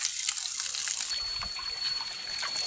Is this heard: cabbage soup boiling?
no